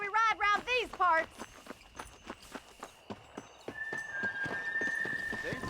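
A horse's hoofbeats in Red Dead Redemption, a steady clip-clop that starts as separate strikes and builds into a faster, denser gallop. Someone talks over the opening and a whinny-like call rises near the start.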